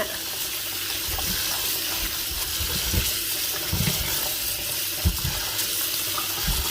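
Tap water runs steadily over freshly picked wild mushrooms, a loud, close, continuous rushing stream with irregular low splashes and knocks as they are rinsed.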